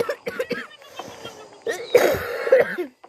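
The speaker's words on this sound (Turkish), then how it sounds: "Ama gerçekten öksürdüm." Several harsh, close coughs in a row, with throat-clearing bursts between them, ending in a louder cluster of hacking coughs.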